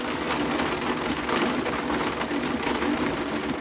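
Heavy rain with big drops pours down steadily during a cut of regrown hay, a dense continuous patter drumming on a surface close by, with no voices.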